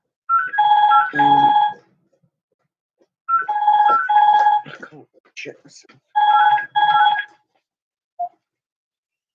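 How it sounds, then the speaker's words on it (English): A house telephone rings in bursts of a warbling electronic double tone, loud and near, with pauses between rings, and a voice speaks briefly between them. "that's my house phone"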